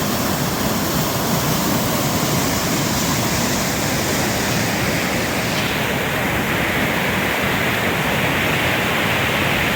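Wind River rushes in a loud, dense, unbroken roar of flowing water, close and constant, with no voices over it.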